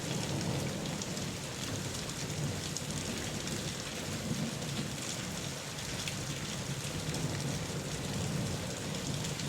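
Dense, steady rain pours down in a continuous close hiss with a low rumbling undertone, unbroken throughout.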